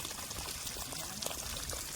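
Water gushes from a motor-driven pump filling pots and tanks on an orange orchard farm, a steady, close, broadband rushing hiss with no pauses.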